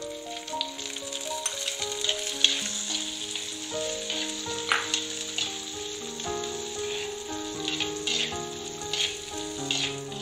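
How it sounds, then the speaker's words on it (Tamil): Finely chopped small shallots sauté in a pan for a Kongu-style green gram kuzhambu, giving a steady, soft sizzle that sits beneath continuous background music for the whole stretch. "இப்ப இந்த வெங்காயம் ஓரளவுக்கு நல்லா வதங்கட்டும்"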